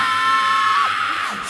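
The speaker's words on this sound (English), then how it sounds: "Then the laughter died with a scream in the air." A single loud, shrill scream rings out as a horror sound effect, holding a high pitch and then sliding down and breaking off over about a second and a half.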